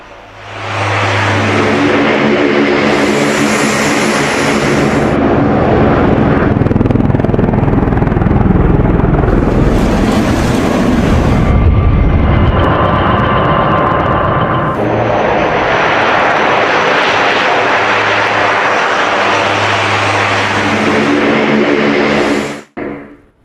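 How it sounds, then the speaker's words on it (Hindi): A US C-130 military transport aircraft roars with a loud, sustained engine drone, swelling and easing over time, close by and filling the whole stretch without talk. "ये देख रहे हैं अमेरिकी C-130 विमान, यह विमान भी उतार दिया गया था"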